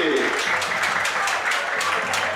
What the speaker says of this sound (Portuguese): Aplausos, senhoras e senhores.